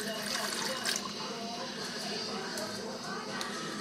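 Warm water pours steadily into a pressure cooker beside a salted squash, a continuous close gurgling fill with light splashing throughout.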